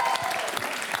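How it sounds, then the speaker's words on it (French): Audience applause at a live French improv comedy show, dense clapping heard close and continuous over a brief stretch, with a voice faintly underneath. "On les applaudit encore bien fort."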